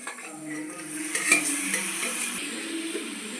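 Chicken pieces go into a sizzling roasted-coconut curry base and are stirred, giving a soft continuous sizzle with scraping spoon and pan clinks close by, no voices.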